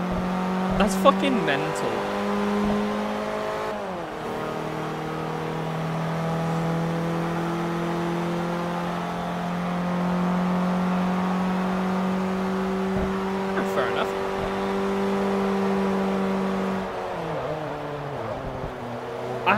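A four-wheel-drive car in Forza Motorsport 3 launches and revs hard, its engine note rising and falling through gear changes steadily for the whole stretch, with someone talking over it.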